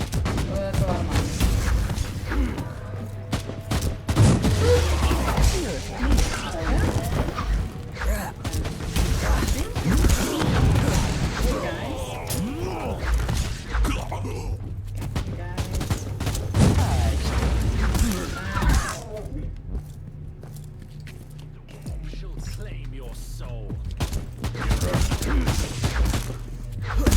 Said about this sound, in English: That is a pile of bombs.